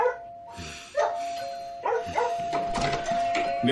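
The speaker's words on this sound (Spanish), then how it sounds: "Mi perro ladra porque tocaste el timbre." A doorbell with a steady sustained tone sounds while a dog barks in several sharp bursts close by, the barking repeating across the moment with some voices faintly mixed in.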